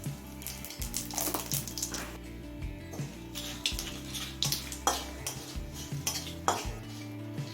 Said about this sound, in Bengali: রাঁধুনিটা দিয়ে 10-12 সেকেন্ড ভেজে নিলাম।